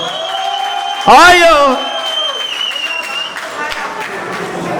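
Wedding guests burst into applause after a toast, a short loud round of clapping and cheering that rises over a man's speech and soon fades as he keeps talking over the crowd.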